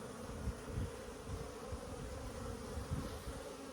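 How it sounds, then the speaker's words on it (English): Many honeybees buzz in a dense, continuous drone close by, with the hum swelling and fading slightly as bees move around. "there'll be a big load of bees that come and land"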